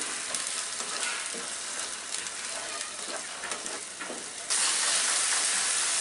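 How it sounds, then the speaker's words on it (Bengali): Onion and garlic paste frying in oil over low heat for an egg korma, a steady close sizzle and crackle of spattering oil that grows brighter and louder near the end, with no talk. "ইউজুয়ালি এগুলা দিলে তেলের মধ্যে ছিটে, সেই জন্য হালকা জালে আমি একটু ভেজে নিব"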